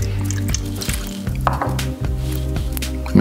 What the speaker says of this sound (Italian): aggiungendo il mezzo bicchiere di acqua